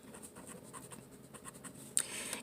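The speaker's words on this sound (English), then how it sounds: "I'm just going to write out my formula" Pen or pencil scratching across paper while a formula is written out by hand, a steady run of soft close strokes with a sharper scrape near the end, no voices.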